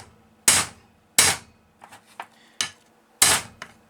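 Hammer blows on an impact screwdriver to loosen a stubborn screw, with four sharp metallic strikes at irregular intervals and softer small knocks and clatter between them, close and loud with no talk.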